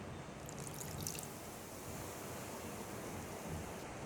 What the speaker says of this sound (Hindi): मैं धीरे धीरे करके आधा कप पानी डाल रही हूँ